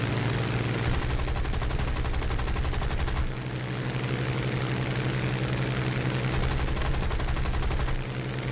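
Aircraft gunfire in War Thunder: two long, loud bursts of rapid machine-gun fire rattle over a constant heavy engine drone, with a pause between them and no talk.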